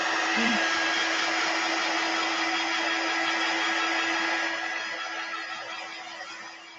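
A hair dryer blows on wet paste over a silk screen, giving a steady, close whooshing roar. It eases slightly in volume near the end, with no voices.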